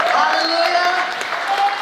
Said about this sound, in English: let's give a hand clap for the Brisbane family.